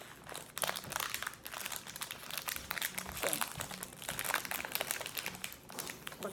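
Plastic packaging on a VALK 3 Rubik's cube being pulled open, giving steady close crinkling and crunching across the whole stretch with no speech.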